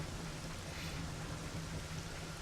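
Steady rainfall in Ocarina of Time, a soft, even hiss of rain with no breaks, fairly quiet and alone for a couple of seconds.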